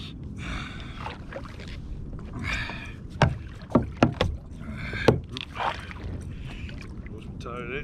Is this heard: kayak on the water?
yes